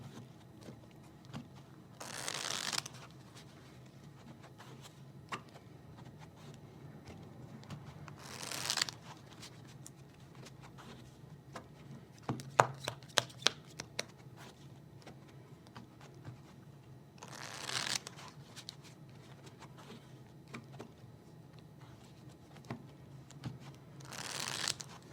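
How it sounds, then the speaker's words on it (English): A double deck of playing cards being riffle shuffled at a blackjack table: several separate, fairly quiet riffling bursts with short pauses between them, and no talk over them. "I'm going to do a standard single deck shuffle, which our house shuffle here is riffle, riffle, strip, riffle, turn, riffle"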